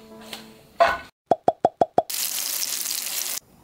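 Sliced king oyster mushrooms drop into a frying pan for a stir-fry side dish: a short burst of contact, then five quick evenly spaced plops, followed by a steady loud sizzle that runs for over a second before stopping.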